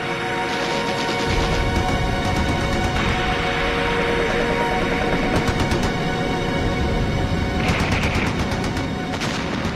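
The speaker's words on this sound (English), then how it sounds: "The English then blasted the banks with machine gun fire." Machine gun fire rakes the banks of a canal during a World War I battle, bursts of rapid shots repeating under a dense, continuous roar of battle noise.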